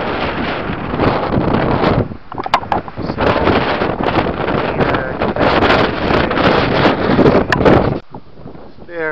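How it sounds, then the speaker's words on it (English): Strong wind on a mountain ridge on Mt Baldy along the Bear Canyon route, roaring steadily and loudly across the microphone for nearly the whole stretch, easing briefly around two seconds and again near the end. "It's pretty windy right here."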